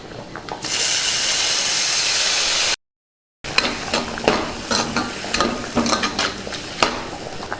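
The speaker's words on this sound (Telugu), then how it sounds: "ముందుగా కచ్చాబిచ్చగా దంచుకున్న పచ్చిమిర్చి కొత్తిమీర పుదీనాని ఇందులో వేసేసుకుందాం" Crushed green chillies, coriander and mint hit hot oil in a pan with a loud, bright sizzle, then, after a short break, a spoon stirs and scrapes through the frying mixture with crackling.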